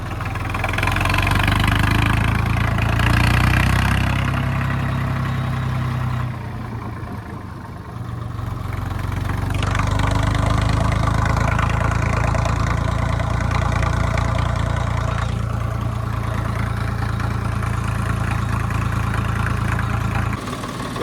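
A Swaraj tractor engine runs steadily close by, a loud low diesel throb with knocking texture that dips briefly in the middle before resuming, heard alone without talk.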